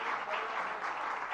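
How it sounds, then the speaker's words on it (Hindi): A gathering of devotees claps together in a steady, fairly faint wash of applause heard throughout, with no voices over it. "तालियों के साथ।"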